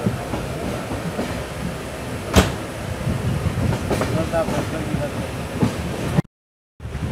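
A Mangalore–Yesvantpur express train rumbles steadily along with broadband rolling noise and a sharp clunk partway through, then cuts out briefly near the end.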